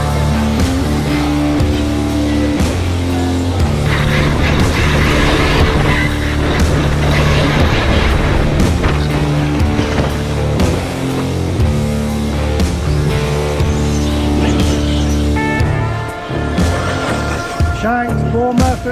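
Several large radio-controlled cars, including a K8, race together outdoors at a weekend meet, their engines screaming loudly and continuously with shifting pitch as they pass, a few faint voices underneath.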